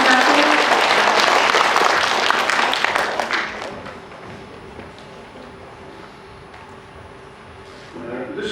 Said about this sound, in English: Let's give Mr. Bradfield a big round of applause